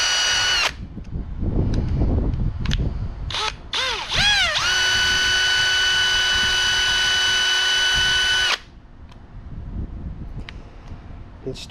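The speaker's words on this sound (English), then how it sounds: "I took my drill and I chucked it up on that brass sleeve" An electric drill chucked onto a brass sleeve whines up to speed and spins steadily for about four seconds with a sustained high tone, then stops, with some handling noise around it.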